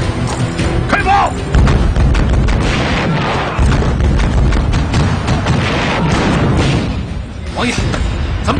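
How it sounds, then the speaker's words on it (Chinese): Cannon fire from an artillery bombardment in a historical war drama set in the early Qing dynasty, loud sustained booming and thudding with dense low rumble throughout, heavy battle din with strong blasts around the second and fourth seconds. "开炮！"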